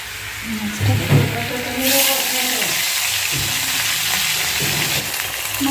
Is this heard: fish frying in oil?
yes